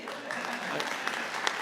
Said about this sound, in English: I don't think Isaac got a round of applause, did he